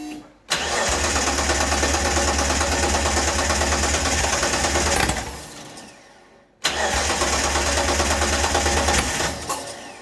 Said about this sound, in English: So I'll see if it'll fire up.